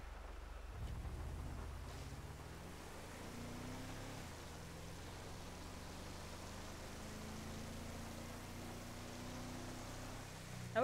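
Rain and distant thunder fill a GTA V roleplay scene, a soft steady wash of rainfall with a low rumble early on and faint engine drone underneath, no talking.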